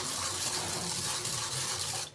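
Tap water runs in a steady, continuous stream into a container, with about a cup measured out for cashew and flaxseed brittle. It is close and fairly loud throughout and stops abruptly at the end.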